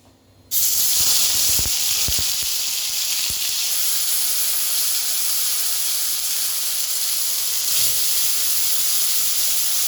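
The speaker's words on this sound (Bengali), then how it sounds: "দেখুন পেঁয়াজ রসুন বাটাটা আমি তেলের মধ্যে দিয়ে ভালো করে নেড়ে নিচ্ছি" Onion and garlic paste hits hot oil in a pan for Bengali chicken posto, bursting into a loud, close, continuous sizzling hiss that holds steady, with a few faint stirring clicks early on.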